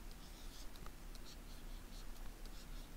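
A pen or marker drags across a surface to draw a line, making a faint, soft scratching in several brief strokes over steady background hiss.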